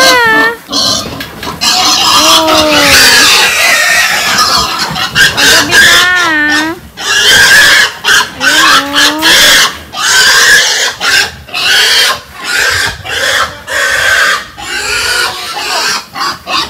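Pigs squeal and grunt loudly and almost without pause at a busy livestock sale where chickens are also sold, with roosters crowing among them and people shouting over the din.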